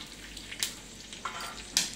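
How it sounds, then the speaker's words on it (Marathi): Curry leaves hit hot oil in a pan on a low gas flame, giving a few quiet bursts of crackling sizzle, each a short spitting flare over a faint background hiss. "गॅस काय हा कढीपत्ता टाकते ना"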